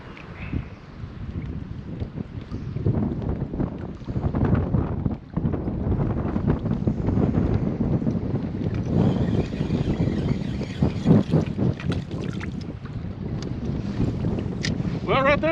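Heavy wind buffets the microphone on a winter river during bass fishing from a boat drifting fast in strong current, a loud, continuous roar with gusts and occasional voice in the background.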